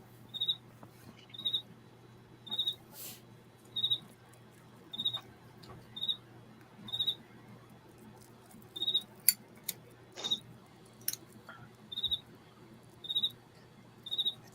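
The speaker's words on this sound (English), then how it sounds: "It's a real cricket." A real cricket chirps in a quiet room, short high bursts repeating roughly every second in a steady rhythm, fairly faint against a low electrical hum and occasional small clicks.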